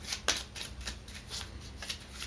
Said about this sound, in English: We're going to give this deck a really good shuffle.